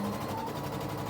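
Sewing machine running steadily while stitching across a fabric quilt block, a continuous close mechanical hum through the short stretch with no talk.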